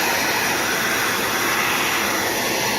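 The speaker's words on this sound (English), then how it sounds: "I'll go ahead and turn the vacuum cleaner on." A vacuum cleaner runs at a steady, loud, unbroken roar with a broad airy hiss, alone and without any talking.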